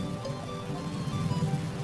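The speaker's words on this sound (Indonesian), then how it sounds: "hujan ya" Rain falling on a surface, a soft steady patter with a low rumbling undertone, moderately faint and continuous.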